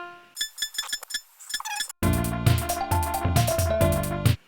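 A Mario Paint truck sound effect beeps in a quick run of thin high tones, followed by a louder, denser burst of chiptune notes in a repeating pattern, with no talking.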